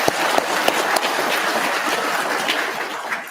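Audience applause at a police promotion ceremony, honoring the families and friends of the promotees: dense, steady clapping fills the room throughout, with a few sharper individual claps standing out near the start.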